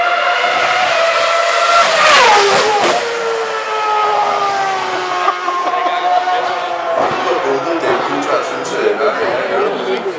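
A Formula 1 car screaming at high revs near 18,000 rpm during a street showoff in Copenhagen, its shrill engine note sweeping down and up through gear changes while a crowd chatters nearby.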